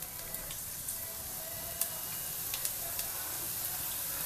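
Five garlic cloves frying in oil in a pan over high heat, a steady, soft hiss of sizzling with occasional tiny pops, heard alone without talk.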